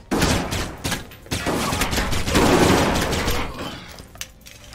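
Gunfire from the video game Alpha Protocol, a dense, loud fusillade of shots with crackling bursts running throughout, with a few sharp impacts and breaking sounds mixed in.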